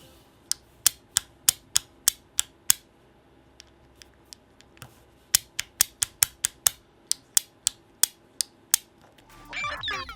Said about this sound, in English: My favorite way of using it is just by clicking it down and getting a nice snap each time.